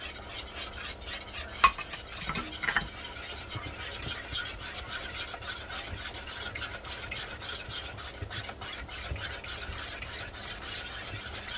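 Egg being beaten for banana muffin batter, a continuous scraping, whisking rhythm against a bowl with a couple of sharper knocks early on, close and fairly quiet.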